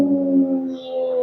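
A person imitates a fox's cry, holding a sustained, tonal, wavering call with steady harmonics, close and fairly loud with no other sound.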